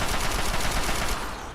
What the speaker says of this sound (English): I hear the Overlord somewhere out there with his fucking Gatling laser